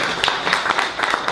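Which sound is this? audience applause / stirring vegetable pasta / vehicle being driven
audience applause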